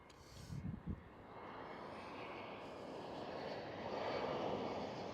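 A large airliner taxis at Amsterdam Schiphol airport, its engines giving a steady broad roar that builds slowly toward the end, with a brief low thump near the start.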